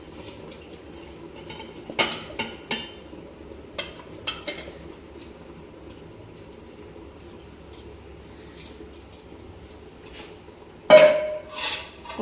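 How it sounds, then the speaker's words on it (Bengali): Washed lentils go into a pot of boiling khichdi, heard as faint clinks of utensils against the pot and soft scraping over a low simmer, ending in a louder clattering splash near the end. "এবার এর মধ্যে ডালগুলো দিয়ে দিচ্ছি।"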